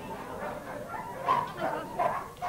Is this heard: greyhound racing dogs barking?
yes